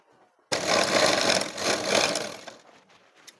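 Sewing machine stitching the next seam on fabric, a steady mechanical whir that starts abruptly and runs for about two seconds before trailing off.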